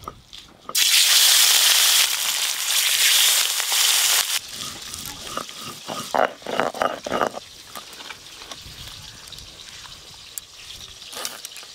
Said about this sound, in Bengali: আর এদিকে তেল গরম হয়ে গেছে, এবার মাছ ভেজে নেব।